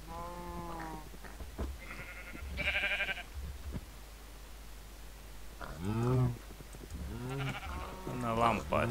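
Sheep bleating in the Minecraft video game, several short wavering bleats scattered through the clip under and between a person talking over game sounds.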